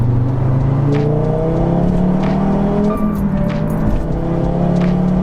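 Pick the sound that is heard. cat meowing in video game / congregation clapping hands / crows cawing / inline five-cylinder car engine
inline five-cylinder car engine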